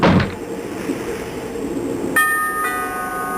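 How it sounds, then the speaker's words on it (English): A bell rings in the video game Necronomicon: a loud opening clang decays into a sustained metallic hum, and a second chime with bright ringing overtones follows near the end. "I think we ring this bell."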